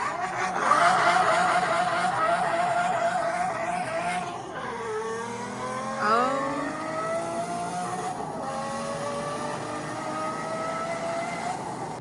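A manual V12 supercar engine revs hard and climbs through rising pitches, dropping back between pulls. The engine is fairly close and loud, with no talk over it.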